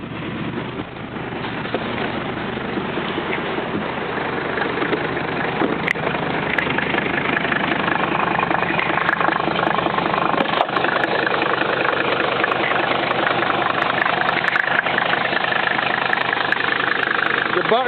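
A diesel car engine, glow plugs cycled twice in winter, catches and settles into a loud, steady knocking idle that continues throughout with mechanical clatter and a few sharp clicks.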